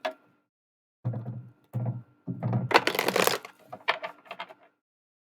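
A deck of cards is shuffled in several quick bursts: short riffling rasps separated by pauses, then a longer, louder riffle and bridge, close and clear with no talk.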